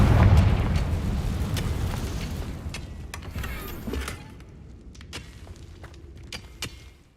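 A Confringo explosion spell cast in the Hogwarts Legacy video game opens with a loud booming blast that rumbles and fades over several seconds, followed by scattered sharp pops and crackles.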